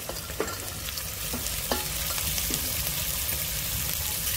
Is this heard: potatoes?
yes